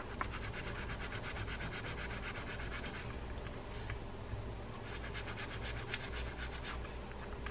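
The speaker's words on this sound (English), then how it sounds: "steel wool to see if we can't buff that off" Steel wool buffing tarnish and dirt off a part of a Shakespeare Alpha 035 spinning fishing reel during servicing, a steady close scratchy rubbing that runs continuously with rhythmic back-and-forth strokes and no talking.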